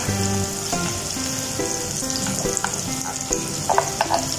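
Beef stir-frying in a pan with onions, a loud, close sizzle with repeated stirring scrapes and tool clatter, no talking.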